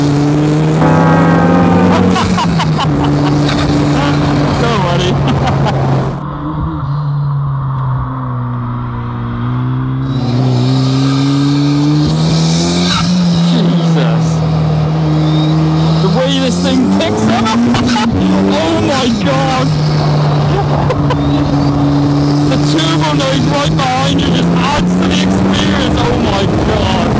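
A Mazda MX-5 accelerating hard on a race track, its engine note rising and shifting through the gears, loud and close, with a voice talking briefly over it.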